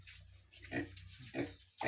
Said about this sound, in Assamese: আমি গাহৰিক এজলা দিছোঁ।